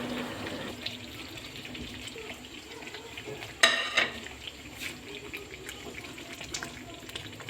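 Chicken kebabs dropped one by one into a simmering spiced gravy in a karahi, a low bubbling sizzle with a couple of sharp splashy clunks midway, close and without talk.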